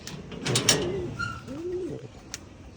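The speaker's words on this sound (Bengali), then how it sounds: "আসলে এই কবুতরটা সুস্থ হইতে আরও অনেক সময় লাগবে" A sick pigeon, kept apart from the flock because of bad droppings, gives a couple of soft, low coos up close against a faint background hiss.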